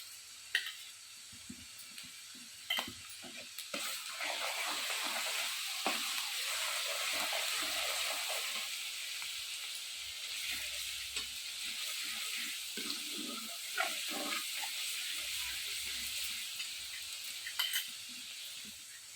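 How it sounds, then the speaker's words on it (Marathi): Ginger garlic paste frying in a pan after onion and asafoetida for a drumstick bhaji, giving a steady hiss with scattered spoon scrapes and occasional clinks, close and fairly even. "आलं लसूण पेस्ट चांगली भाजली की त्यामध्ये आपल्याला घालायचं आहे बारीक चिरलेला टोमॅटो."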